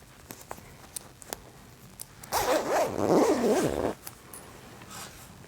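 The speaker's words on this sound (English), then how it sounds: "let's zip it up" A zipper on a reversible hoodie is pulled up in one smooth, rasping run of about a second and a half, close and loud, with light handling taps before and after.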